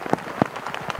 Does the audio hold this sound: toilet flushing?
no